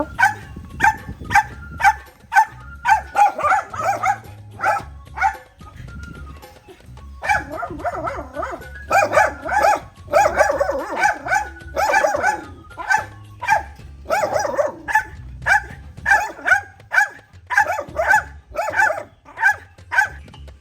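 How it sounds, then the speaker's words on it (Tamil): Two puppies bark persistently outdoors at a home surrounded by plants and trees, sharp repeated yips and barks coming in steady rhythmic bursts with brief pauses, loud and fairly close, without any voices. "இந்த இடத்துல பாருங்க 2 நாய்க்குட்டி நின்று கத்தி கொண்டு நிற்கணும்"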